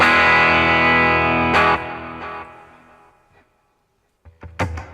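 Electric guitar chord played through a NUX MG-30 modeler on its Deluxe Reverb amp setting with slight distortion rings out and decays into silence, followed by a couple of muted pick or string thunks.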